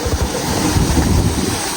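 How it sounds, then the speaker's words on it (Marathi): Water gushes steadily from an opened return valve into a swimming pool, a dense, continuous splashing rush heard close and loud with no voices. "पाणी तिथं पडतंय"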